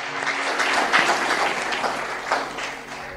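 A congregation at an Independence Day church sermon breaks into applause, a dense, lively burst of clapping from many hands that swells and eases over a few seconds.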